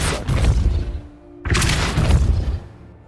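Depulso spell cast in the video game Hogwarts Legacy: two loud, close booming blasts, the second a sharp impact burst followed by rumbling debris, with a short quieter gap between them.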